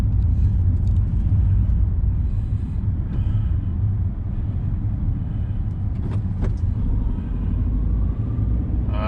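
Steady in-car rumble of a car driving along a country road used by walkers and cyclists, a continuous low engine and road drone with a few brief rattles, no voices.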